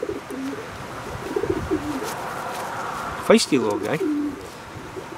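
A young racing pigeon coos softly in short warbling phrases while being handled, close to the microphone, with someone talking briefly in between.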